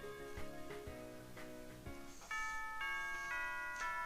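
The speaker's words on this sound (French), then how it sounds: "Oh, c'est la cloche de l'école." A chiming school bell in the video game Pokemon Soleil, a looping electronic ding-dong melody of clear repeated tones over light game background music, no speech.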